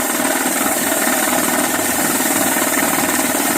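Groundwater well drilling rig in Yasothon, Thailand, running loud and close, a constant engine drone with rapid, even mechanical pulsing and no pauses.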